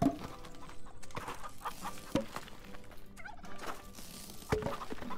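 Plymouth Rock chickens in the farming video game Farm Together cluck and murmur softly in the background, with a few sharper clucks and faint clicks scattered through the short stretch.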